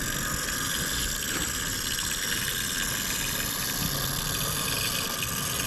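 A small industrial locomotive engine runs steadily while moving a caboose in a rail yard, its constant hum and rumble mixed with broadband noise, continuous and moderately loud throughout.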